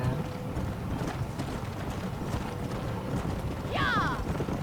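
Horse hooves clip-clop steadily in the Red Dead video game, a muffled rhythmic plodding under game ambience, with a brief sharp whinny-like cry near the end.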